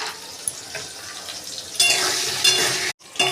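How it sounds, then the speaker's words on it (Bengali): Potato pieces fry in hot mustard oil seasoned with salt and turmeric, a crackling sizzle that swells loudly partway through with stirring scrapes, then cuts out briefly before resuming. "এখন আমি আলুর টুকরোগুলো এর মধ্যে দিয়ে ভেজে তুলে নেব।"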